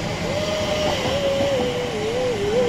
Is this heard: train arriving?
yes